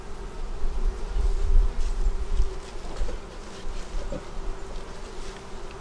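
Honey bees kept in South Carolina hives, a dense continuous buzzing swarm close by with a steady hum throughout and no talk.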